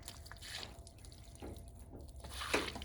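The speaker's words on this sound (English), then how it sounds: "We're gonna get some water on this beauty." Water poured and splashed onto a freshly sawn ash slab at a sawmill, a faint trickling wash with a couple of brief splashes.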